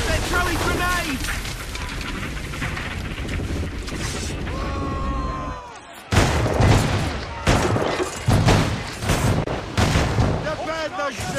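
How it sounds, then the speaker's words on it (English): Grenade explosions and gunfire during a shipboard battle in an Assassin's Creed Rogue cutscene: a dense, loud din of blasts and shots, with a brief drop before it erupts again and voices shouting throughout. "They're throwing grenades!"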